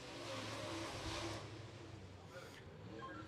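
A race car on a qualifying lap at Beckley Motor Speedway roars past, its engine note swelling and fading at a distance under the hum of the track.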